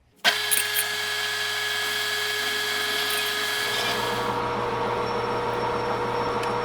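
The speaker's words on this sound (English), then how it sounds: "Let's part it off then." A metal knob is being parted off on a lathe: a steady, high, whining machine tone that starts abruptly and holds evenly throughout, loud and close with no voices.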